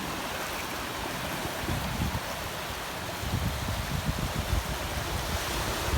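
Sea waves wash onto Mae Phim Beach in Rayong, Thailand, as the tide comes in, a steady broadband surf hiss with gentle swells and some wind rumble, with no voices.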